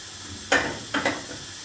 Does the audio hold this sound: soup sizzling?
yes